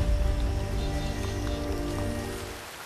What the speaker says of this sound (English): It rains on 300 days of the year.